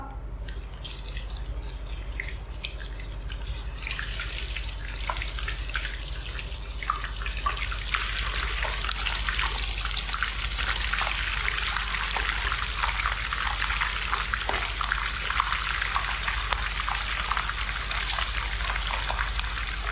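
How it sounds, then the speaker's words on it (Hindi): Plain, unseasoned raw chicken pieces, patted dry, sizzle in hot oil in a heavy kadai, a steady loud hiss with dense crackles and pops that builds slightly and then holds, with no talking. "ऑयल गर्म हो गया है, इसके अंदर मैं चिकन डालती हूँ।"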